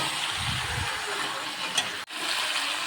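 Chicken being sautéed (kosha) in a pan for a home curry, giving a steady close sizzle with a few brief scraping stirs and one sharp momentary break near the end.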